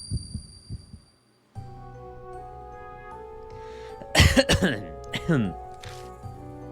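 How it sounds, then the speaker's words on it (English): Harsh, strained coughing bursts of a person in pain in the video game Spirit Hunter: NG rise over a low electronic hum, preceded by faint thumping. "I hear coughing sounds. They sound like they're from a person that's in pain."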